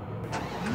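A car engine starting up in the battle royale game Free Fire. A short cranking catch settles into a steady mid-pitched engine hum, heard close and fairly quiet in a brief burst with no voices.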